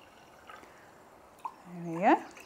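Soda water is poured into a cocktail to top it up: a short, quiet liquid gurgle rises in pitch near the end after a couple of faint taps.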